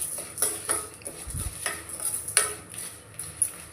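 Cumin seeds are stirred in a hot pan while making a dry leaf powder, with a series of close scraping clinks from a spoon over a soft sizzle and no voices.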